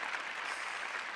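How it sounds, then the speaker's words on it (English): A studio audience claps steadily, a dense wash of hands at moderate loudness that holds evenly throughout the short burst, with no voices on top. "Now, give yourselves a round."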